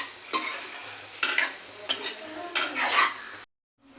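Goat brain fry is stirred and turned in a pan, with four or five close scraping sweeps of a spatula against the metal over a steady sizzle, then it stops briefly. No one talks.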